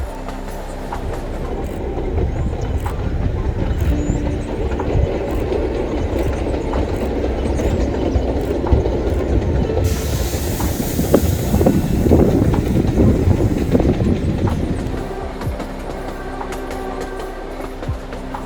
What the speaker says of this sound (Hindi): हमारी ट्रेन बिल्मोरा से निकलकर खूबसूरत हरे भरे मैदानों और जंगल झाड़ियों से होते हुए गुजर रही है